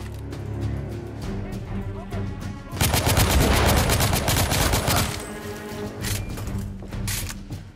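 Rapid bursts of gunfire in a shooter video game, including shotgun blasts, with a dense loud volley in the middle and scattered shots before and after.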